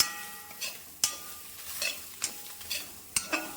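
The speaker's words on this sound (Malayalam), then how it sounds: "തേങ്ങ അധികം മൂക്കാതെ നമുക്ക് ഇതൊന്ന് വറുത്തെടുക്കാം." Grated coconut frying in a pan for a roasted chutney, with a steady soft sizzle and a spoon scraping and stirring in sharp strokes about every second, close and alone.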